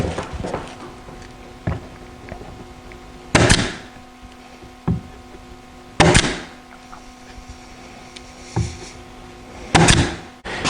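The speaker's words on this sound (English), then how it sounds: "I'm putting these little strips in with a pin nailer" Pin nailer driving small wood strips into an entry cabinet: sharp, loud percussive shots at irregular intervals, roughly five or six pops over a steady low background hum.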